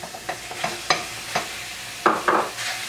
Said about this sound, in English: ground beef, half pound, right in.